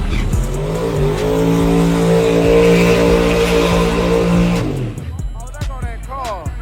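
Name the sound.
drag racing car making a pass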